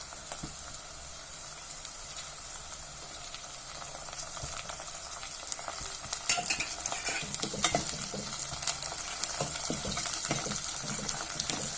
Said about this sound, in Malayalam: ഇഞ്ചിയും പച്ചമുളകും വെളുത്തുള്ളിയും കൂടി കറിവേപ്പിലയൊന്ന് മൂക്കണവരെ ഇളക്കി കൊടുക്കാം.